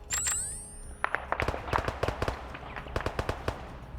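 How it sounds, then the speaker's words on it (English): Gunfire in a Czech roleplay military operation video game cracks out as scattered sharp shots and short bursts, some close and loud, others fainter, after a brief whistling sweep. "Have some shooting overhead"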